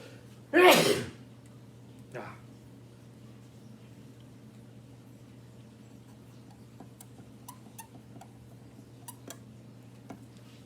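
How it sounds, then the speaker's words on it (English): A single loud, sudden sneeze right at the start, followed by quiet room tone with a few faint ticks and clicks. "I'm about to sneeze."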